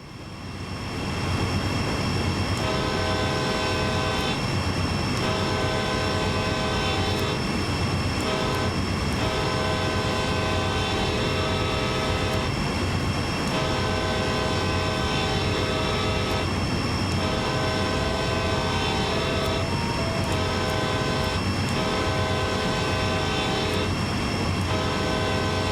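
Locomotive horn of an AC4400 diesel in Train Sim World 5, sounding in long loud blasts repeated in a pattern over steady engine rumble and rail noise, close and dominant throughout.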